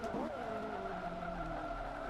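Car tires squeal in a sustained skid while losing traction in the racing game Forza 5, with the engine droning underneath throughout, steady and fairly close.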